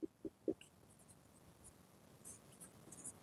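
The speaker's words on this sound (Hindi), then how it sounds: "तो देखिए सबसे पहले लिखते हैं जो गिवन है" Pen writing out a trigonometry equation on paper, a few soft taps and faint scratching strokes, quiet and close, with a louder tap at the end.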